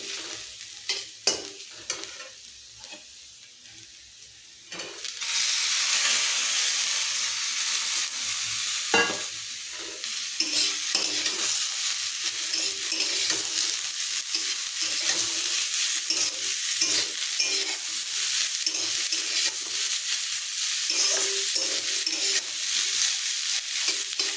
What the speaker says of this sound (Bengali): এর সঙ্গে ফুলকপি ভাজাটা অ্যাড করে দেবো দিয়ে একটু না মিক্স করে নামিয়ে নেবো